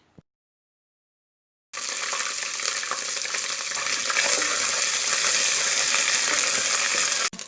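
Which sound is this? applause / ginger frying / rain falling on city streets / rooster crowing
ginger frying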